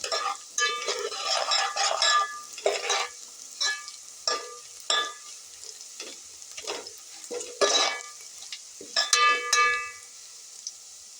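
Onions frying in a pan on a low flame, stirred with a spatula in repeated scraping, clinking strokes over a soft steady sizzle, close up.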